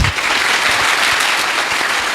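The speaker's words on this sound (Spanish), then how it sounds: "Aplauso pues para el hermano." Continuous applause from a church audience for a speaker, brisk even clapping from many hands filling the room at a steady loud level.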